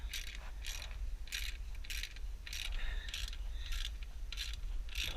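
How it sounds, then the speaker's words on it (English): A hand ratchet tightens the exhaust clamp on a race can fitted to a Suzuki Bandit 650, ticking in a steady run of crisp clicks, close and fairly quiet over a low background hum. "tighten that clamp up."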